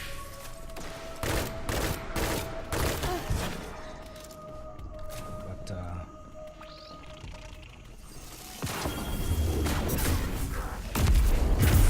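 The Bygones pulse rifle fires in Destiny 2, with sharp bursts repeating in quick succession over the first few seconds. After a quieter stretch, louder firing and impacts come back near the end.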